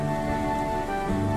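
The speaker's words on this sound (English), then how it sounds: "It's really raining hard." Heavy rain falling outside, a steady, even wash of hiss at moderate level with no breaks or voices.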